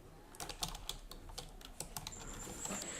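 Quick, uneven keystrokes on a computer keyboard as a document title is entered, close and clear with light clicks in a steady flurry and no talking.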